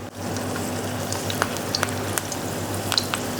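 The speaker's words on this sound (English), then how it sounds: "place your aloo tikkis carefully" Aloo tikki potato patties shallow frying in hot oil in a pan give a steady, close sizzle with occasional sharp pops and crackles, heard alone without any talk.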